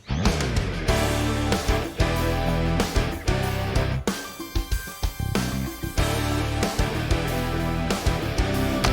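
A full rock band plays a heavy, driving riff with thick distorted guitars, bass and pounding drums, loud and continuous with a brief break midway.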